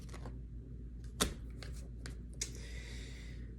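A tarot card deck riffled and shuffled by hand at close range, a quick run of crisp papery flutters and snaps with brief pauses between bursts.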